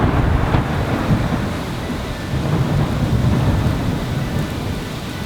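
Heavy rain pours steadily during a thunderstorm, with deep rumbling thunder rolling underneath and a dense, continuous wash of sound throughout, loud and close with no voices.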